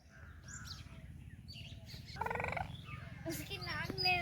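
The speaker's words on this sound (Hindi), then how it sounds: "ये चिड़िया क्या ढूंढ रही है?" Small birds chirp and tweet in short bursts outdoors, fairly faint over a steady low hum, with scattered calls rising toward the end.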